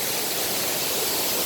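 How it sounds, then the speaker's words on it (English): A waterfall at a campsite pours in a constant, dense hiss of falling water, close and even, with no voices over it. "We got this waterfall all to ourselves."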